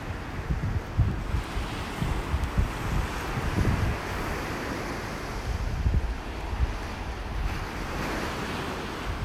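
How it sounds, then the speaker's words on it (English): Wind gusts across a Gulf Coast beach in North Naples, Florida, roaring and buffeting the microphone over the steady wash of surf, rising and falling in strong rushes with no voices. "Ooh, here comes that wind."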